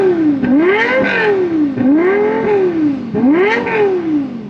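A Lexus LFA with its Yamaha-developed 1LR-GUE engine revs hard three times in succession, the pitch sweeping up and down with each loud, close blip and no voices.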